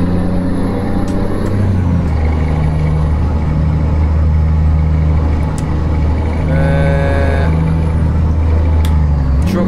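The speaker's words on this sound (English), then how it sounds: "Truck sounds mega" A heavy truck in Euro Truck Simulator 2 drones steadily with a deep engine hum throughout, with a brief rising whine and a short hiss midway, loud and continuous with no talk over it.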